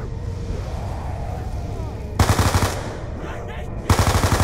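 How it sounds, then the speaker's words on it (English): Automatic gunfire from Call of Duty Black Ops 2 Zombies, two loud rapid bursts of shots fired at another player, separated by a short pause over a steady game-audio bed. "Okay, I start shooting him."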